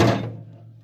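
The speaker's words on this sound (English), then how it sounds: "I just knocked the hood down on my head." A car hood slams down with a single heavy thunk during engine repair work on a Rover, the impact loud and close before a resonant decay fades out alone.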